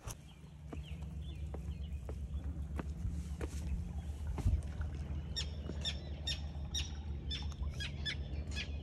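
Bird squawks and chirps near the water on Toronto Island, a series of short calls growing busier toward the end over a steady outdoor rumble of wind and distant activity.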